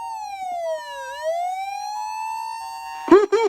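A mid-period Osaka Siren OPS-5101V-Q ambulance siren amplifier sweeps down and back up in a smooth electronic wail, loud and clean, before a short burst of amplified announcement voice cuts in at the end.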